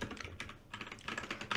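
Rapid typing on a new computer keyboard, key clicks clustering in uneven bursts with short pauses, close and fairly quiet, no voices.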